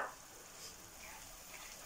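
Onion fries in a pan with ground coriander and black pepper while being stirred, producing a faint, steady sizzling hiss throughout.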